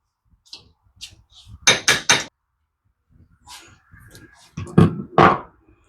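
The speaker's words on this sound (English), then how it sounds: "I tapped the edge of the carburetor body on the vise to get this to fall out" The metal body of a Honda GCV160 carburetor is knocked against a vise in sharp, hard taps, a quick cluster of three and then two more, close by with quiet handling between.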